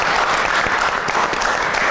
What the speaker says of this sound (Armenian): Շատ լավ, Լիլիթ Թոխացյանին եկեք ծափարենք